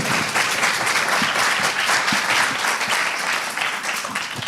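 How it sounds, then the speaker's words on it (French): Audience applause for a speaker at a French conference on alchemy, a dense, steady wash of many hands clapping at close range, sustained evenly throughout with no voices on top. "Donc, applaudissements pour Patrick Buren-Stenas."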